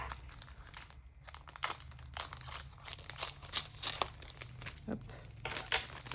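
Plastic packaging of a cross-stitch kit is opened up close with bursts of crinkling, rustling and tearing. A voice makes a short exclamation partway through.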